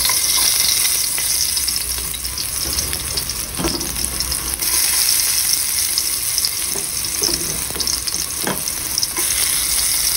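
Garlic sizzles and crackles steadily in a pan of frying broccoli, with occasional stirring scrapes over a continuous loud hiss throughout.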